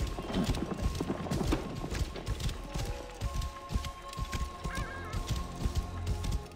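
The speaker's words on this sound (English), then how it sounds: "I'm riding the horse manually" Horse hooves clip-clop steadily in Assassin's Creed Origins as the player rides manually, a continuous quick rhythm of hoofbeats at moderate level with a brief whinny and soft game ambience underneath.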